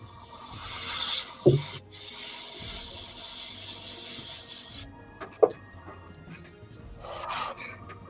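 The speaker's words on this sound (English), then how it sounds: "So this is where I'm going to try and get like slightly finer brush strokes with the airbrush." An airbrush sprays paint onto a miniature, giving a steady close hiss that runs for several seconds, then stops and gives way to quieter rustling and small handling noises.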